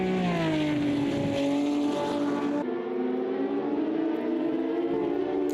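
Race car engine in Automobilista 2, a green Spartan classic car running continuously loud and close, with a steady harmonic drone that rises and shifts as it revs through the gears.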